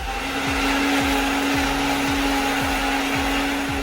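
A mixer grinder whirs steadily while grinding masala into a paste, a loud continuous motor drone with a regular thumping pulse from the jar's contents.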